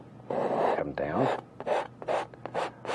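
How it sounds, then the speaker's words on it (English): Palette knife scraping oil paint off a canvas while a barn is being painted, a series of short raspy strokes of varying length, close and moderately loud, with brief pauses between scrapes. "can you see what I'm scraping out here?"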